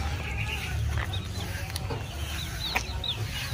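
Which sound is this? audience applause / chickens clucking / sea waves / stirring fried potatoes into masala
chickens clucking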